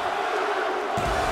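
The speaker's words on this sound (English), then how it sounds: "The crowd reciprocating the energy of LA Knight" Video game arena crowd in WWE 2K24 roars for wrestler LA Knight, a steady wash of cheering that swells louder in the last half-second, with a commentator's voice faintly mixed in.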